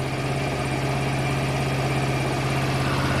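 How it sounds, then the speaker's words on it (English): A Honda Varadero 125 motorcycle engine idles on a workbench during carburettor tuning, a steady close low thrum that holds unchanged throughout with no speech. "I'll take a bit of idle off again. The idle's a bit weird on this one."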